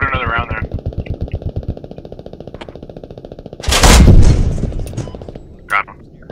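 A remote weapon station on an Abrams tank fires in the Squad video game, with a rapid burst of heavy gunfire, then a loud blast-like roar and one more sharp shot, over a running engine drone while a voice talks on radio.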